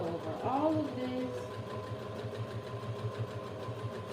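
A sewing machine hums steadily at low volume, stitching over a vinyl wallet, with a brief faint voice near the start and a continuous mechanical drone throughout.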